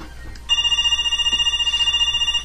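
A telephone bell rings in a room, a steady electronic trill that starts abruptly and keeps sounding for about two seconds at moderate loudness, with no talk over it.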